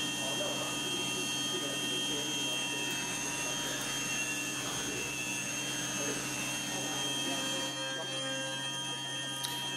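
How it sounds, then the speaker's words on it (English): A Syil X7 CNC milling machine runs a bull nose end mill around a wheel contour cutting a wide chamfer, giving a steady droning whine with mechanical hum and tonal overtones, continuous and close. "You can see the bore end mill going round and round around the contour to make the big wide chamfer."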